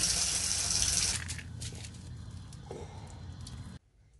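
Water gushes loudly from a bathtub tap in an RV trailer, then drops to a softer flow for a few seconds before cutting off abruptly into near silence.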